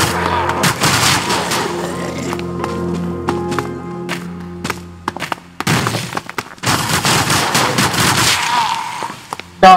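Rapid bursts of pistol fire in a zombie video game crack repeatedly over a steady electronic game soundtrack, loud and close, with short pauses between volleys.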